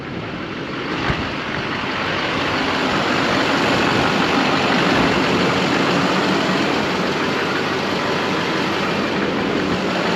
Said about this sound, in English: we're having trouble with the tractor.